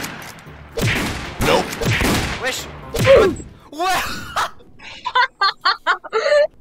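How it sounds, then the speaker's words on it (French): Hunting rifle shots ring out in the Roblox western game Far West: a quick run of five or six sharp, loud bursts that follows a stretch of excited talking. "Moi je prends le fusil de chasse, hein."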